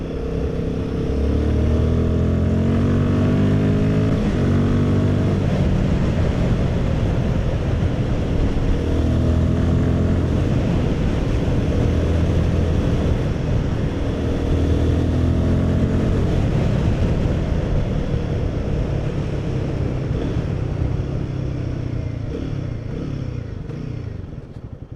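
Royal Enfield Guerrilla 450 motorcycle riding near Devils Bridge, its engine a steady, loud drone with rhythmic throb and wind rush that holds for the whole stretch, with no talk over it.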